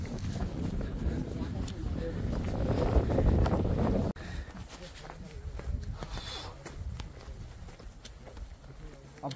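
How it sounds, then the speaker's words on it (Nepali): Wind rushes and buffets the microphone on a mountain trek near Arjul village on the Padmi to Hukam route, a steady loud roar that eases slightly midway, with faint voices underneath. "मिठो हावा लागिरहेछ।"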